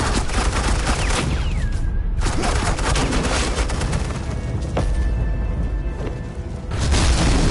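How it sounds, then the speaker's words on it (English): Gunfire in a Batman video game rattles in dense, continuous bursts under a booming, chaotic battle mix with sharp cracks throughout, loud and close. "Suppressing fire."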